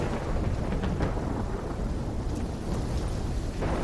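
Steady roaring rain and a low, rolling storm rumble fill the scene during a thunderstorm in the Call of Duty Black Ops 3 video game, with no voices.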